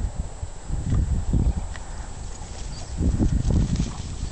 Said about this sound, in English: Look out for the horse, guys.